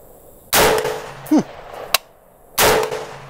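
Shots from a Colt Dissipator rifle, two loud sharp reports with a metallic clang and a short ping between them, each followed by a quick decaying echo.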